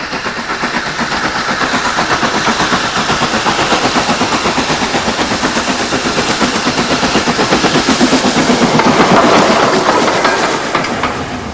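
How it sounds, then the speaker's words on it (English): An old steam train on England's private Bluebell Railway, loud and close, with rapid rhythmic chuffing and rail clatter throughout and a hiss of steam building near the end. "They only have old steam engines here and beautiful old carriages."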